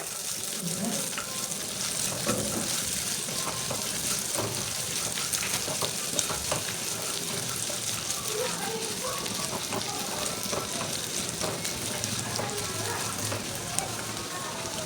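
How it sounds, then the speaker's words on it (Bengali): Peanuts and grated coconut sizzle and crackle steadily in a hot pan for a sweet made with flour, with occasional stirring scrapes, close and continuous with no talk. "এবার বাদাম আর নারকেলটা আমি একটু ভেজে নিচ্ছি"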